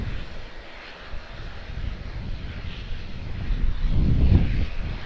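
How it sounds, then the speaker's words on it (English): An ATR turboprop airliner arriving from New Plymouth gives a broad, steady engine rumble that swells louder toward the end as it draws nearer, with some wind buffeting on the microphone. "5052 is the flight number of this ATR"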